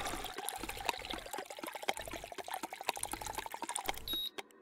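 Water being poured in a cooking video game, a rapid rippling trickle of liquid with rhythmic glugging pulses, fairly close, ending in a short chime-like tone.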